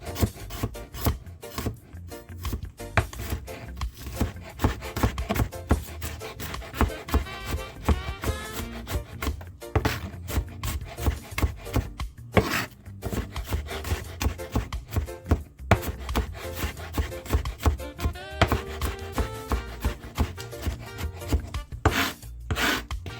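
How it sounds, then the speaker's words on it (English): Three garlic cloves being chopped with a knife on a wooden board: steady, rapid, close-up tapping and scraping strokes repeating nearly continuously, with no talking. "Finish cutting my 3 clove of garlic"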